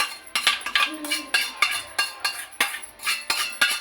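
Fried mint and coriander are moved from a pan into a bowl with a metal spoon, giving a quick series of about a dozen close, rhythmic clinks and scrapes.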